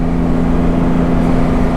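A Porsche GT3 RS fitted with an MBRP exhaust, engine warmed up, holds a steady loud drone with a strong low hum, sounding like a sustained idle or held rev with little change across the moment.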